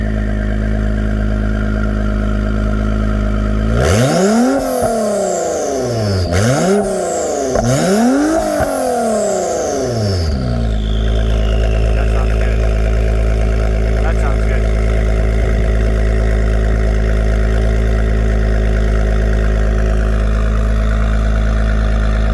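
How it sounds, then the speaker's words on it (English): An Acura NSX with aftermarket downpipes idles loudly, then revs hard three times in quick sweeping bursts before settling back to a steady, rumbling idle close up. "let you guys listen in on the exhaust sound after I finish telling you guys that this owner ended up putting some downpipes"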